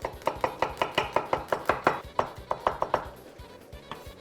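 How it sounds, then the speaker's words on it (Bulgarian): A knife chops garlic cloves into coarse pieces on a cutting board while cooking Macedonian baked beans, about a dozen close, crisp, evenly spaced thuds for roughly three seconds, then a few slower strikes. "Затова сега нарязвам още една-две скилитки."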